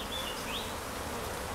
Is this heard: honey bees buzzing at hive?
yes